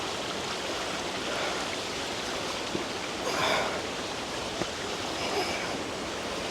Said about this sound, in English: Just worn away by the constant flow of water.